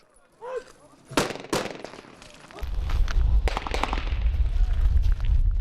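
Gunfire at police marksmanship training, several sharp shots in quick succession followed by a sustained loud rumble of rapid fire, with voices faint in the background.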